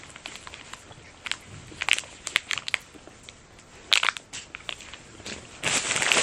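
Chewing chocolate-coated salt and caramel licorice by Bulo: close, crunchy crackling bites in irregular bursts, rising to denser crunching at the end, no talk.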